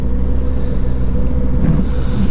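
An Audi A3 engine runs with a loud, close, steady low rumble and slight revving, a continuous droning hum throughout with no voices.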